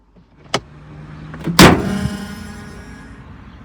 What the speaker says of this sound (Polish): musicie usłyszeć dźwięk zamykania maski tego samochodu